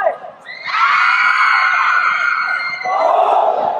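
A crowd of students, boys and girls together, screams loudly and nearly continuously at a school event, starting after a brief murmur and swelling into a sustained high-pitched roar, with a second surge of shrieking near the end.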